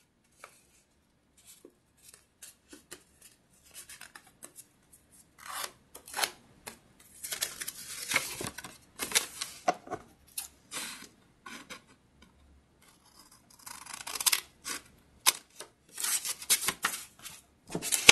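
Scissors snip repeatedly through folded paper strips in a quiet room, the crisp cuts arriving in irregular bursts that grow denser and louder toward the end, with no talking.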